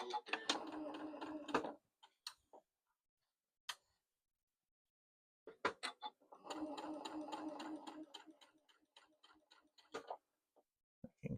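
A sewing machine stitches a shirt sleeve in two rapid mechanical runs, with a quick ticking rhythm and a pause between bursts, close and fairly loud.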